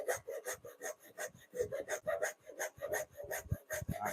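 A mortise being chopped by hand through a tough knot in wood, heard as rapid, rhythmic rasping and scraping strokes, close and steady for several seconds with no talking.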